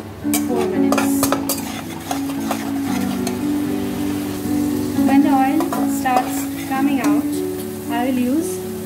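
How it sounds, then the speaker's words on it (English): A spice mixture is stirred and cooked into fish masala for Bengali fish kalia, with a close sizzle and repeated spoon scrapes against the pan. Tonal background sound runs underneath throughout. "Next I will add the spice mixture and stir and cook it for"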